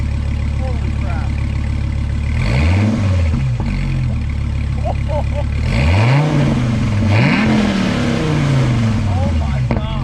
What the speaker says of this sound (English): You can hear the Lambo in that though, like that V10 sound